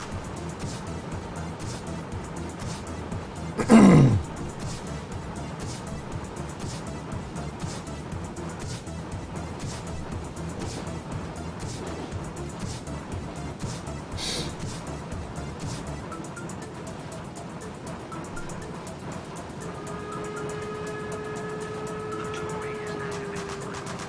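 A German Baureihe 86 steam locomotive runs at full throttle in a cab-ride simulation, giving a steady, dense mechanical rumble with a brief louder burst early on and faint tonal whines entering near the end.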